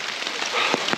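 Heavy rain falls hard during a backpacking trip, a close, steady wash of noise with several sharper drop impacts standing out near the end.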